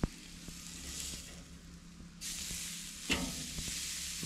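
A tomahawk steak sears on an outdoor grill at a hunting camp shack, giving a steady, close sizzle that surges louder partway through as the meat meets the hot grate, with a sharp clank or tap near the end.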